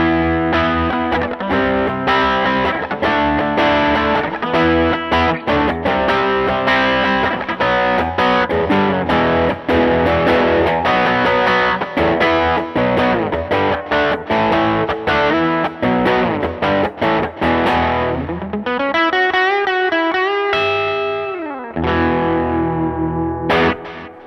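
Electric Strat-style guitar on the bridge pickup played through a Tumnus overdrive pedal gives loud, driven chords and riffs in a steady rhythm, ending in a sustained, ringing chord that slowly fades.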